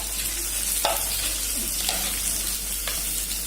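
Onion and green chili hit hot oil in a pan and sizzle steadily and loudly up close, with a few sharp scrapes or taps of a utensil.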